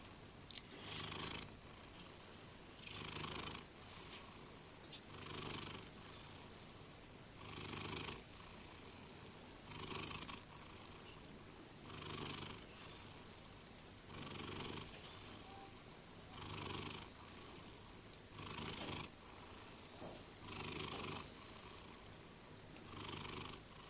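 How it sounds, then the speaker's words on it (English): A cat purring close up, a soft rumbling drone with regular louder swells on each breath, repeating steadily with no other sounds. "I wanted you to hear the noise of that purr."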